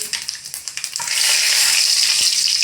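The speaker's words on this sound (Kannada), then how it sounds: "ಸಾಸಿವೆ ಹಾಕಿ ಜೀರಿಗೆ ಹಾಕ್ರಿ ಸ್ವಲ್ಪ ಚಕ್ಕೆ ಹಾಕ್ರಿ" Mustard seeds, cumin and cinnamon dropped into hot oil for paneer Hyderabadi: a few sharp pops and crackles, then a loud, steady, close sizzle that fills the rest of the moment, with no voices.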